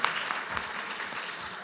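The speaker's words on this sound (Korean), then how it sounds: "우리 서로에게 격려를 위해서 박수 한번 보내주시기 바랍니다." Brief burst of audience applause at an academic society's autumn conference opening ceremony, a dense even patter of many hands heard from a distance.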